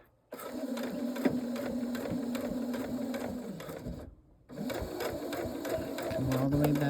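A sewing machine stitches a round jelly roll rug with a zigzag stitch, a close, steady whirring hum that runs continuously, pauses briefly for a second, then resumes.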